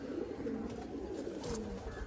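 Pet pigeons coo softly in low repeated rolling calls, faint and somewhat distant, with background bustle throughout.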